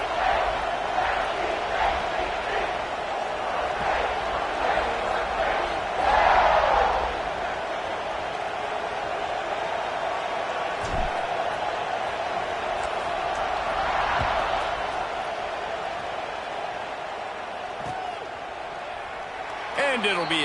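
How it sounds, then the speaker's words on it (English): A stadium crowd in the College Football 26 video game roars in a constant, dense wash of cheering, with a commentator talking over it throughout. "this crowd is feeling themselves after that last drive"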